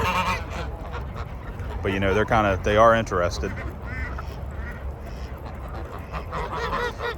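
Several geese honk loudly in a quick run of calls, with someone speaking briefly over the flock and more scattered honks afterward.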